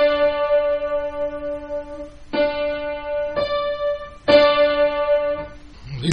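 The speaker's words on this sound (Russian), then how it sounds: "Октава – это две ноты на расстоянии" Octave notes on a keyboard, two notes twelve semitones apart, played as several sustained struck tones in a row, clear and close with no talk.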